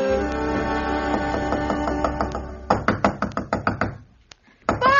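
Knocking on a wooden door, a run of sharp knocks in two bursts, close and loud over a sustained musical background that cuts out briefly before returning.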